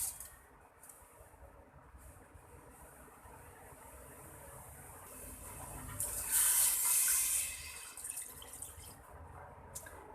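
Water is poured into a cooking pot of spiced mutton for biryani, a soft running splash that swells and grows louder midway before easing back to a quiet trickle.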